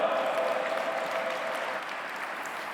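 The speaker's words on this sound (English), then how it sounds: "Please put your hands together and welcome with a round of applause Dr. Gunoan Diop." Audience applause at an interfaith forum welcoming a speaker to the stage, a sustained wash of clapping that eases slightly toward the end, with no talk over it.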